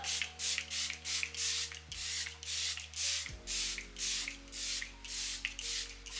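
Rapid bursts of hissing setting spray from a Charlotte Tilbury Airbrush Flawless Setting Spray bottle, about a dozen quick pumps in an even rhythm, close by, over a faint low hum.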